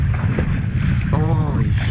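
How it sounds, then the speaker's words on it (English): Wind blows across a lake from a fishing boat during summer lake trout jigging, making a loud, constant rumbling buffet against the microphone with faint water movement beneath. "It's a good thing it's windy though."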